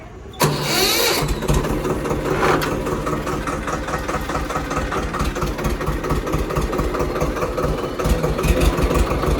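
A tractor engine cranks and catches, then settles into a loud, steady near idle with a rhythmic diesel throb that runs without a break; no voices are heard.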